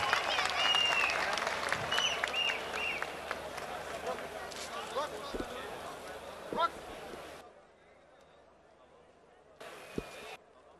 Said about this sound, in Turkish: Şöyle giderken alkışlarla gidin.